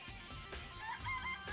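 Chickens cluck in a Danganronpa video game, with short, faint, high-pitched bursts repeating over a low background hum for about a second and a half.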